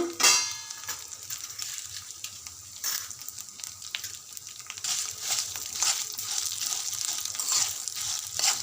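Ten or twelve dried red chillies fry in hot oil for palak pachadi, a crackling sizzle that bursts loud at first, then settles into steady frying with occasional stirring clanks.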